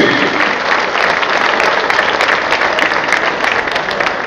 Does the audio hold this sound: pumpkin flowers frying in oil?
no